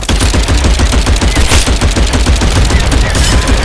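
Rapid, continuous gunfire in the Glory Frontline video game, including submachine gun bursts, loud and dense throughout with no pauses.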